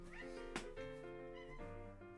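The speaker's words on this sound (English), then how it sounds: "Oh my god, the cat is going crazy." A cat meows repeatedly in drawn-out, wavering cries, fairly close and clear over a quiet background, one sharp higher yowl cutting in early.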